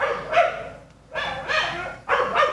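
A small dog yaps and barks in three quick bursts, sharp and fairly close, with short pauses between them.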